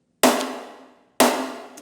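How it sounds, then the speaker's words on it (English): Two snare drum hits about a second apart, each ringing out into a long, wide reverb tail that fades slowly. "It's like this big wide open snare."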